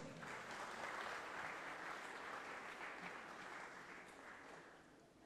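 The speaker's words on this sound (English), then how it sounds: "Please give him a big round of applause." An audience at a university orientation bursts into sustained applause to welcome a speaker, a dense, even clapping that holds steady before slowly tapering toward the end.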